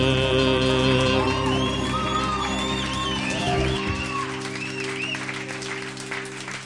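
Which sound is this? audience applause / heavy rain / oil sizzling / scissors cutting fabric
audience applause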